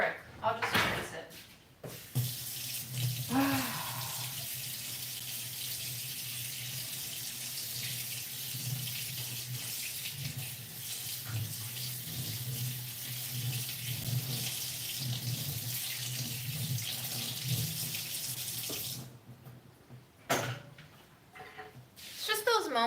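Tap water runs steadily into a sink for close to twenty seconds while someone rinses, with a few cupboard or drawer knocks at the start and end and a voice speaking briefly.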